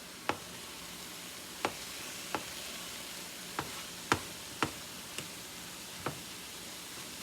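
Ground meat browning in a pan for a crockpot meat and potatoes dish, a soft continuous sizzle under a steady hiss, broken by sharp clicks or spatula taps at irregular intervals, close and quiet, with no talking.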